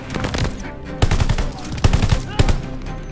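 Machine gun fire in Call of Duty Vanguard: several short, close, rapid automatic bursts with a loud rattling punch, separated by brief gaps over a busy battlefield background.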